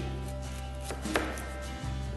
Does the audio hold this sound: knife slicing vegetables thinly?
yes